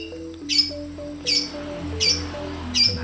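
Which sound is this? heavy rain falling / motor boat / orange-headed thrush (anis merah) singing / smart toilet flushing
orange-headed thrush (anis merah) singing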